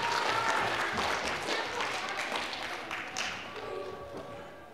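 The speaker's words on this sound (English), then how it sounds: "let's give our friends a round of applause" Audience applause at an online church service, a steady burst of clapping from a group that fades slowly toward the end with no talking over it.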